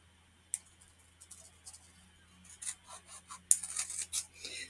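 Scissors trim a paper flap while making a handmade card, producing a series of close, crisp snips and clicks that grow busier toward the end, with no talking.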